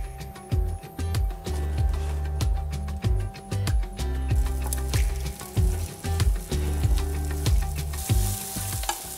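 Onions frying in oil in a pan, a steady close sizzle with repeated clattering stirs and scrapes of a utensil throughout, no voices.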